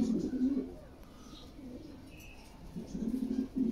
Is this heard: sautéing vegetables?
no